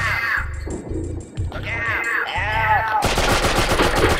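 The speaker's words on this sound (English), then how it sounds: "We'll tell him to look out and we're going to shoot him." Gunfire in the video game Oddworld, a rapid burst of loud machine-gun-style shots near the end, preceded by game sound effects and creature chatter.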